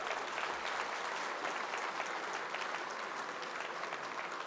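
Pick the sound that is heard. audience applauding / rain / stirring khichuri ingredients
audience applauding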